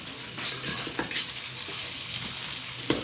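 Chicken adobo frying in a pan while being stirred, a steady close sizzle with a few soft scraping stirs and clinks, no talk.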